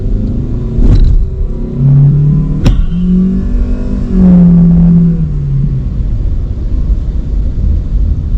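An All New Toyota Veloz accelerating on a test drive, heard from inside the cabin as a loud engine drone that rises and falls in pitch through a couple of revving surges, without talking.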